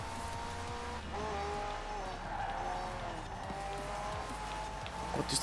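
A McLaren race car in Forza Horizon 4 drives hard, its engine note climbing and shifting steadily close up, with low rumble and brief tire noise throughout.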